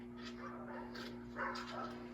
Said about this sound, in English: He's barking for me over there.